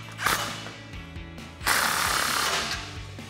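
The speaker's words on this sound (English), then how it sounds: "we can take our 15 millimeter socket to tighten down our clamp" A 15 mm socket ratchet tightens the clamp on a Rugged Ridge-style Runner RedRock cat-back exhaust pipe, giving rapid metallic clicking in two close, loud runs split by a brief pause, with no talking.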